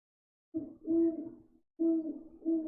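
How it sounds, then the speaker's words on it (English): A pet owl gives a series of low, hooting coos in two separate bursts, close and moderately loud, with a short pause between them. "That's Oswald, our owl, for all you listeners out there."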